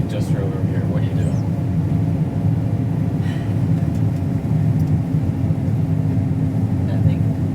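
A combine harvester's engine holds at high idle at the edge of a wheat field, giving a loud, constant low roar that stays steady throughout with faint voices in the background.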